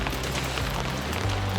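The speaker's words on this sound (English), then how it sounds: "I do think it's going to be wet, considering it's already raining." Rain falls steadily on a sailboat during a storm at sea, making a dense, even hiss of drops without talking.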